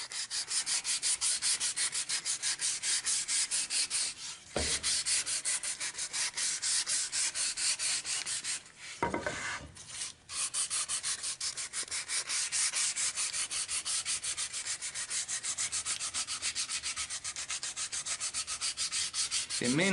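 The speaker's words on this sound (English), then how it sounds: "It may not be a bad idea to come back over this just to ensure that it all got sanded evenly." Steady hand sanding of the wooden molding on a mini chest, a continuous close scratchy rasp of back-and-forth strokes with two brief pauses near the middle.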